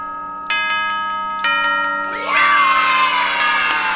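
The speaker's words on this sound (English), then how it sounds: "the yay sound effect is actually a stock effect from the Apple software, not Bandcamp, GarageBand" Stock "yay" children-cheering effect from Five Nights at Freddy's, following two clock-like chimes, then a loud burst of kids shouting and cheering that fades over a couple of seconds.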